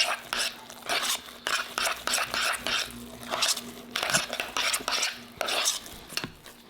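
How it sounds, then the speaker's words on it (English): Mashed potatoes being mixed with cream and butter, an utensil scraping and clinking steadily against a pot or bowl in quick repeated strokes, fairly close, without clear talk. "I'll just slowly keep incorporating that cream and that butter into there"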